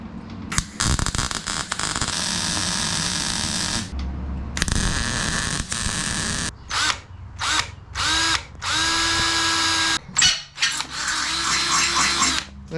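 A power drill bores into a metal tube on a Jaguar special during handbrake fitting, whining loudly in repeated bursts of varying length with brief pauses between.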